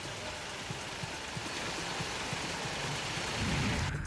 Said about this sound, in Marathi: जोरदार पावसाला सुरुवात झाली आहे